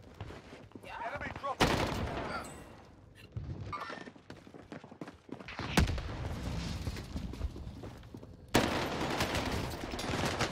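Gunfire in the World War II-era shooter Warzone Pacific on Rebirth Island, with sharp bursts and single shots mixed into game sounds, while players talk over the action.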